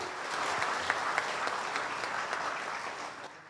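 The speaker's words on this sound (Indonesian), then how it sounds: "Boleh sekali lagi berikan tepuk tangan untuk dua narasumber kita" Steady, fairly soft audience applause for two guests at a health talk show in Banyuwangi, a continuous wash of many hands clapping with no standout claps, tapering off at the very end.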